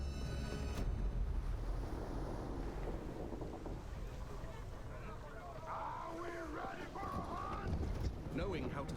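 Sailing ship moving through wind in a pirate video game, a steady rush of wind and water with creaking, under someone talking throughout.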